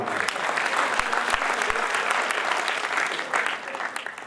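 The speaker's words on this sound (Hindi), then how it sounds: "ताली बजा के सम्मान।" Audience applause at a Jat parliament gathering in Hisar, a dense, steady clapping from a crowd that fills the room at close range throughout.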